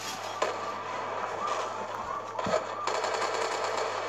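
Gunfire in the Call of Duty 2 video game, played on the slums map, comes as dense rapid bursts under a steady hiss of game sound, with a few louder shots standing out.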